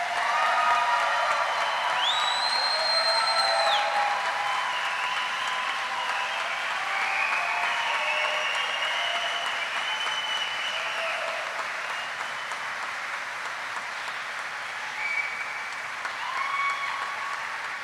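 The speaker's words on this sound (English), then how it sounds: "Please join me in a round of applause for the Army's newest aviation warfighters" A large audience at a U.S. Army flight school graduation applauds the newest Army aviators, with steady, dense clapping and some cheers and whistles sustained throughout.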